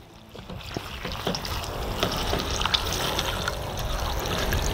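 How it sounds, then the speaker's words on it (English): Fresh water pours into a bowl over mesquite wood chips, a continuous splashing trickle that grows steadily louder as the bowl fills, with small splashes and knocks along the way. "We're gonna dump them in, and then just use clear fresh water,"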